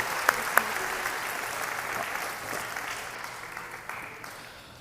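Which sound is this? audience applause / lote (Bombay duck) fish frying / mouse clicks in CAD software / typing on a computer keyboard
audience applause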